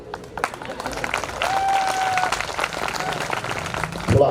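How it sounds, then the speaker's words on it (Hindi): Audience applause at a Hindi poetry gathering celebrating a 75th birthday, steady mixed clapping building and holding for a few seconds with a short voice near the end. "थोड़ा और तालियां घनीभूत करें डॉक्टर भुवन मोहिनी को।"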